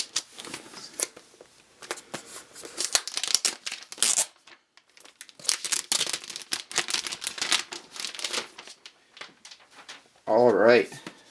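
Crinkling plastic and paper wrapping pulled off a new 2011 MacBook Pro, in irregular close bursts with short pauses, ending with a louder rustle.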